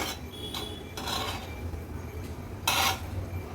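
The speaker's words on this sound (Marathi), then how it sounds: "आता एक एक करून ही अंडी पलटवून घेऊया" Boiled eggs coated in raw egg are flipped one by one in a frying pan, giving a few soft metallic clinks and scrapes over a low background sizzle.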